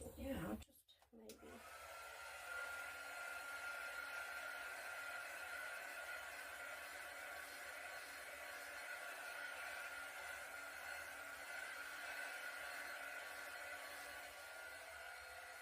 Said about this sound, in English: So let me quickly hit this with a heat gun.